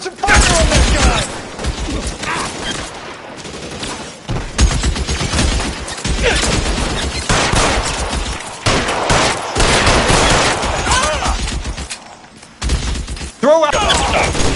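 Dense, loud gunfire in LA Noire, a 1940s-era crime game, with rapid volleys and bursts of shots crowding the scene, punctuated by short pauses and mechanical clatter.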